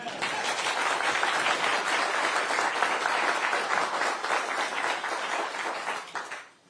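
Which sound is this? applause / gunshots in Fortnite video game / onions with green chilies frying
applause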